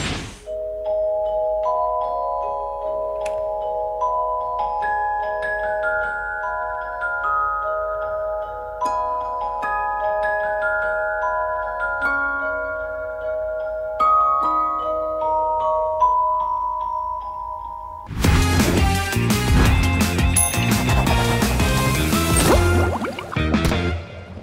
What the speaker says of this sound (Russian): когда засыпаешь под шум моря